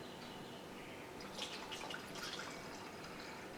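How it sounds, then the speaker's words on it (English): Liquid poured smoothly from a tilted container, tipped from the side so air can get in, gives a faint, steady trickle with soft splashy detail swelling briefly midway. "The way you have to pour this is you have to pour it either from this direction or from the side"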